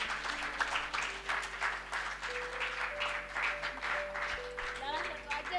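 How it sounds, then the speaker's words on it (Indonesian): Congregation clapping at a church gathering, steady broadband patter filling the room, with sustained musical tones and some voices running underneath. "Beri tepuk tangan buat Tuhan dulu."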